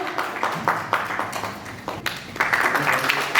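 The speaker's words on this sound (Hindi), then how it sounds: "जोरदार तालियों से सभी का स्वागत" Audience at a caregiver training program on healthy ageing applauds to welcome speakers, uneven clapping that comes in several bursts and swells, moderately loud and fairly close, growing denser toward the end.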